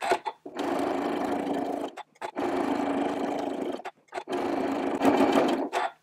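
A sewing machine runs in three steady bursts of free-motion quilting, each lasting one to two seconds, with short pauses between, loud and close with no talking.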